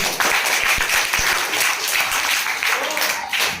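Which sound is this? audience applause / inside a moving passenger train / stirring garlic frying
audience applause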